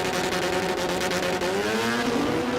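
A street-class drag racing car at the Adelaide Jamboree, its engine screaming loud and close at a sustained high pitch as it launches, the tone climbing steadily with no voices.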